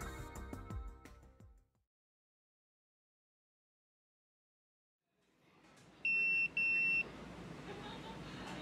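An electronic phone ringtone in the video game Yakuza 0 sounds as two short, bright beeping bursts close together, after a stretch of silence, over a soft ambient background.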